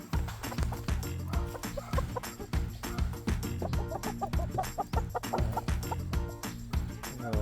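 A flock of chickens clucks continuously and busily close by, with overlapping cackles and scratching noises and no voices.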